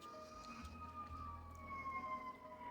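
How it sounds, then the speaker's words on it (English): Fire engine sirens wail faintly in the distance, a steady drawn-out tone drifting slowly downward over a low rumble of road traffic, with no talking. "I think we're going to hear some fire engines."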